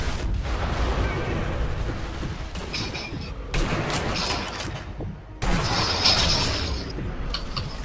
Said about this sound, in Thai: มันสองฝ่ายมันยิงกัน